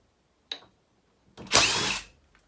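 A power drill backs screws out of window trim inside a converted bus, with a brief short whir followed by a longer, louder whine, close and alone with quiet pauses.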